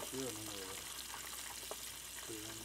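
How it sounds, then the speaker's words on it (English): Wild turkey nuggets sizzle and crackle loudly frying in hot Crisco oil, a constant bright hiss close by, with someone talking briefly over it at the start and end. "And he's frying them up."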